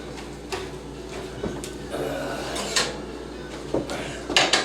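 A hot baking pan, just out of the oven, clanks down onto a kitchen counter with a few close metallic knocks and scrapes over steady room background.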